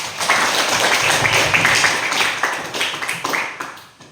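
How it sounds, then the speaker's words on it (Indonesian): A classroom audience breaks into brisk applause, a dense burst of many hands clapping close by that carries on for several seconds and then thins out toward the end. "Berikan aplaus"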